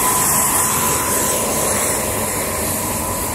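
A jet-powered helicopter's gas turbine turboshaft engine runs at a helicopter base, giving a loud, steady whine and broadband roar with a high tonal edge that continues unbroken throughout.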